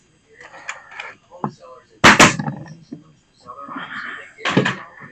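A brad nailer shooting brads into wood for a wooden door mat, with a sharp loud pneumatic snap in the middle and softer knocks around it, while someone talks close by.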